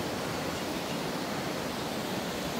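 A river rushes and foams in a steady, dense roar of broadband water noise, unbroken and even throughout, with no voices.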